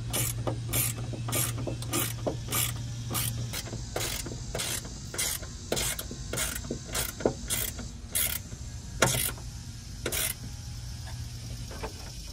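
A ratchet clicks in rapid bursts while tightening 10 millimeter screws on the door of a 1986 Pontiac Fiero GT, a dozen or so sharp close ratcheting strokes over a steady low hum.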